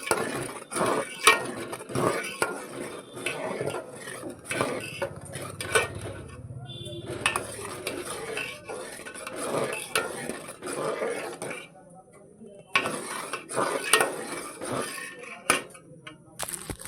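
A spoon stirs milk in a metal pot, scraping and clinking against the sides in an uneven rhythm that continues for the whole stretch. Faint voices are heard in the background.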